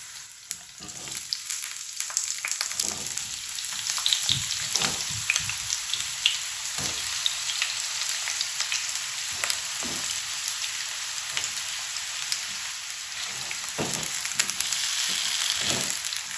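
Potato pieces fry in about half a cup of hot oil in a pan for a quick breakfast dish, giving a steady, close sizzle with occasional louder crackles and stirring clatter throughout, and no talking.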